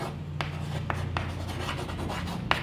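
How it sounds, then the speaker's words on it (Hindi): Writing on a board during a Class 6 maths lesson on HCF and LCM: a few short scratchy strokes spaced irregularly over a quiet room hum, with no voice. "यहाँ लिखेंगे हम"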